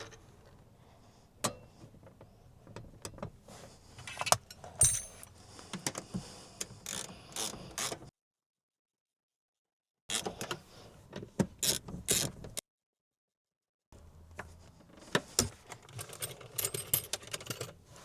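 Factory seat bolts being reinstalled and hand-tightened in a Porsche 911, Cayman or Boxster during a fire extinguisher install, heard as close metallic clicks, taps and ratcheting clatter in bursts separated by silent gaps.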